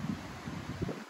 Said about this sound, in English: It's pretty windy out here, as you can tell.